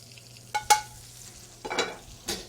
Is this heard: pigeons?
no